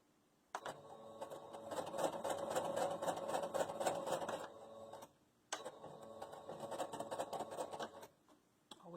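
A sewing machine stitches a curved seam on a fabric face mask in two steady runs of rapid whirring and ticking, separated by a short pause, close and clear.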